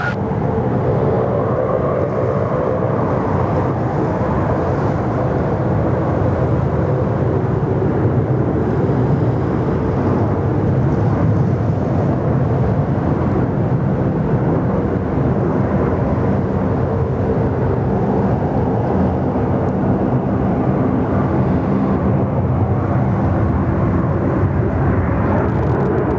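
Air New Zealand flight 101 airliner landing on runway 34 right at Sydney Airport, a loud continuous rumbling roar of jet engines sustained throughout, steady and close with no talk.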